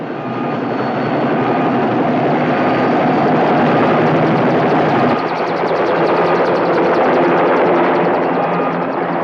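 A rescue helicopter lifts off with a loud, steady roar of engine and rotor that fills the whole stretch without a break, close and dense, with no voices over it.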